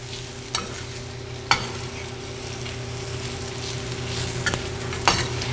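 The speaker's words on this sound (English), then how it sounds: "Keep stirring to incorporate the spices around the shells, but also so that you can, the spices get toasted." Spices toasting around shells in a hot pan give a steady sizzle and fry hiss, with a few sharp scrapes and clicks from stirring spaced through it; no one speaks.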